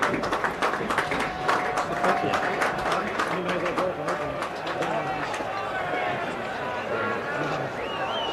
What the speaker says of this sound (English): The Scottish team clapping the All Blacks in